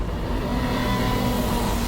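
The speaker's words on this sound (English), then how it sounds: "Sound like a car speeding off." A car drives off with a steady, loud engine rush and road roar, sustained throughout the short stretch with no talking.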